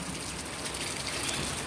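Heavy rain pours down in a steady broadband hiss that swells slightly louder toward the end, close and continuous with no voices over it.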